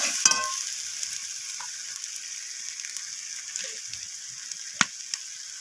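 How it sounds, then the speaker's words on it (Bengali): Spice masala for a surmai fish curry frying and being stirred in a pan, a bright continuous sizzle with a few sharp spatula scrapes and clicks, close and fairly loud. "মশলাটাকে আমি সব কিছুর সাথে এইভাবে নাড়াচাড়া করে কষাতে থাকব"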